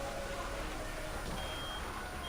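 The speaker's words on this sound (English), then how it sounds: "What's that sound? Some kind of alarm?" An alarm blares in the Reverse 1999 video game during the London chapter, a dense, continuous howling wail with thin beeping tones that holds steady at high volume throughout.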